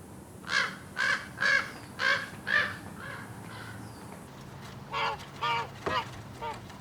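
A raven calls with a run of five hoarse, evenly spaced caws, then a softer, quicker set of croaking calls, all at moderate distance over low outdoor background noise.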